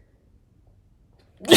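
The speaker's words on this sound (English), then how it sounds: "Okay, I'm gonna sneeze." A single loud, close human sneeze bursts out abruptly at the very end, after near silence, during a home livestream of someone coding.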